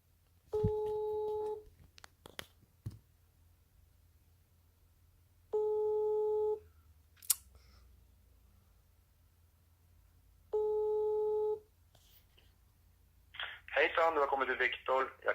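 Three bursts of a repeating telephone busy tone, each roughly a second long, sound from a phone while trying to reach the previous owner of a broken Mercedes AMG, separated by quiet gaps, with a sharp click and a brief garbled noise near the end.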